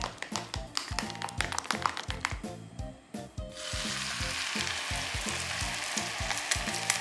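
Grated nagaimo yam and egg go into a frying pan over medium heat. A quick series of sharp taps is followed by a steady, close, loud sizzle that fills the rest of the clip.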